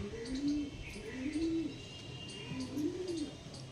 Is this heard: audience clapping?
no